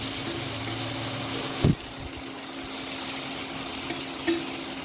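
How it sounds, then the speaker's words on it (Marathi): Hilsa fish pieces fry in a pan while being flipped one by one, a continuous soft sizzle with a couple of brief scraping knocks as pieces are turned, with no talking. "आता एक एक करून सर्व तुकड्या मी पलटून घेते"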